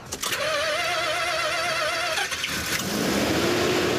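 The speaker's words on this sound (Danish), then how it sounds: "Det første, du hører, det er jo blæseren, der går i gang." A cooling fan whirs up over a running three-rotor Wankel engine car, with a wavering mechanical whine that cuts out and gives way to a steadier, rising drone.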